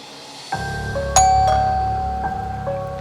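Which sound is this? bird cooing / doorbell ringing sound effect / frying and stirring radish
doorbell ringing sound effect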